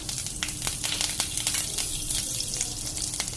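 Curry leaves hitting hot oil for poha, a close, steady hiss and crackle with small popping spits scattered through it and no voices.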